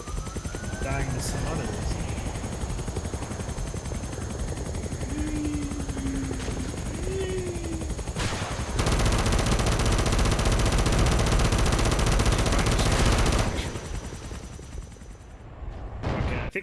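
Gunfire in Halo CE during a modded campaign playthrough, with steady bursts of shots over a droning vehicle or engine hum, a long loud barrage in the middle, and a player talking over the action.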